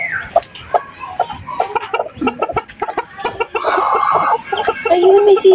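Silkie chickens cluck and newly hatched chicks peep in a close, busy cluster of short calls, with people talking over the birds.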